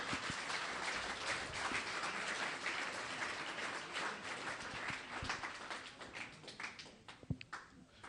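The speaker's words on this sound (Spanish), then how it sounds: "Dele un aplauso al Señor en esta mañana" Church congregation applauding during a Spanish-language worship service, a dense sustained clapping that thins toward the end with a few sharper claps standing out.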